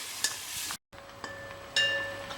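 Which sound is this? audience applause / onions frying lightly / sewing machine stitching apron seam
onions frying lightly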